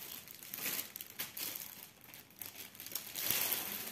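Plastic packaging of a Mona Lisa stamped cross-stitch kit being opened, with close crinkling and rustling in several bursts, moderately quiet.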